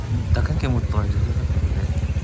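A motorcycle engine chugs nearby at low speed with a steady rhythmic throb, while people talk over it.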